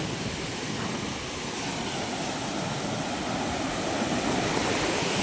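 Powerful sea water washes over a collapsing seaside hut in a constant, dense roar of surf, close and loud, with no voices over it.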